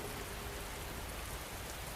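Steady rain falls on a surface with a dense, even hiss of raindrops, constant and unbroken, moderately quiet, without talk or thunder.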